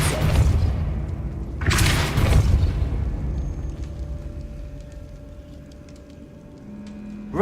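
The Depulso force spell cast in Hogwarts Legacy, two heavy booming blasts a couple of seconds apart, each with a sharp onset and a rumbling decay, followed by quieter ambient tones.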